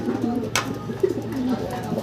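Two large pigeons coo close by in a short burst of low throaty coos, with a sharp click or flap in between and a faint voice in the background.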